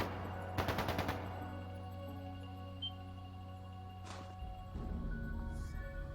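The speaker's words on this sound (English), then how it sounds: "That sounded like gunfire." Gunfire in the video game Cold Steel II sounds as a quick rattling burst of shots, then a couple of faint isolated pops over a low steady music bed, with no talking.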